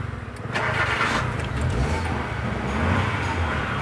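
A Hyundai i10 with a faulty ECM and stiff power steering cranks and catches, then settles into a steady, close idle hum that carries to the end.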